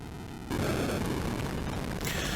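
In the Atari 8-bit game Bellum, a sudden loud explosion bursts in after a short electronic tone and rumbles on as a sustained roaring blast, followed by a brighter hissing layer.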